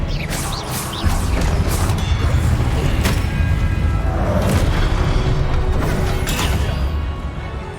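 Spells are cast in Hogwarts Legacy as loud booming blasts and crashing impacts that follow one another over a dense, continuous game soundscape.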